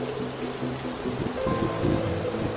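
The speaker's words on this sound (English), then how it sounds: "I know the rain is a little loud" Heavy rain in the video game Mountain Crime: Requital pours down as a dense, continuous hiss with low rumbling undertones, loud and steady throughout.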